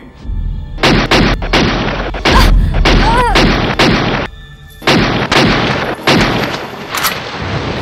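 Gunshots from a film scene crack out in a rapid, loud volley of repeated bursts, close and harsh, with brief gaps and a shout heard among them.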